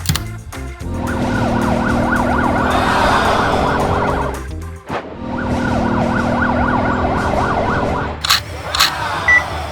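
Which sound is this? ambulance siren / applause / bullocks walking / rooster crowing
ambulance siren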